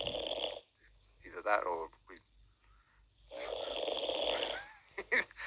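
Radio caller asleep on the phone snoring heavily over a phone line, two long rasping snores separated by a pause, with a presenter speaking in between.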